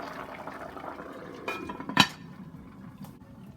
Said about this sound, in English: Alright my friends, so now we're going to cover the pot.